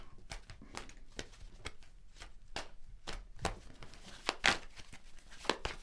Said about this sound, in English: So I'm going to shuffle the cards